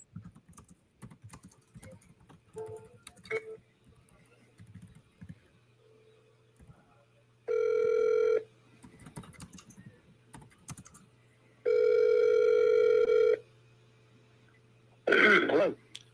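Tapping clicks as a number is entered on a phone precede two long, loud telephone ringback tones separated by a pause, followed by a short burst of sound at the end; some throat clearing occurs in the background.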